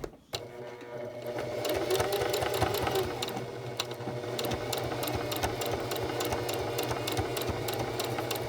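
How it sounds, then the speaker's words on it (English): A sewing machine runs continuously, stitching pleats on a fabric face mask. The whirring and rapid needle clatter are steady and close, and nothing else is heard over them. "then I will sew my pleats, still yet giving just that same 1/4 inch allowance"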